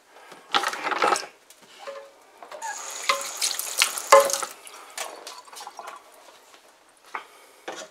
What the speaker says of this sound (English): And then I can fill up each bottle